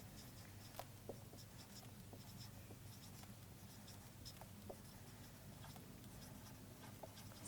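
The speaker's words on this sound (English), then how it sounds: "Let us write it." Pen on paper writing out a long eight-digit number by hand, a very faint, soft scratching patter with small irregular ticks running steadily for several seconds, no voices.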